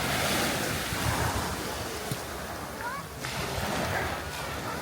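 Surf rolls onto a Pattaya beach in continuous loud washes while wind buffets the microphone, and someone talks faintly under the roar.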